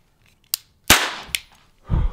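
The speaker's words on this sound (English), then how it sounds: "It's a cap. Oh. It doesn't actually shoot. It just makes a loud sound." A cheap plastic toy cap gun from Walmart fires, giving a sharp loud crack, flanked by a couple of smaller clicks from the trigger mechanism, then a muffled thump, with no talking.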